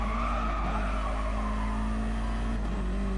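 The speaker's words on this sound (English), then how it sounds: "Nice and solid braking" A DTM race car brakes hard into the Parabolica corner at Monza, a steady loud engine note with a sustained tonal drone and tire squeal running through the whole stretch, no voices over it.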